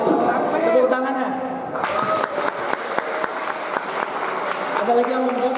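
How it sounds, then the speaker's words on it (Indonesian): Attendees at an Islamic seminar on cleanliness, part of a school anniversary celebration, clap briefly after an answer, a moderate burst of hand claps starting after a voice and fading as speaking resumes. "Tepuk tangannya"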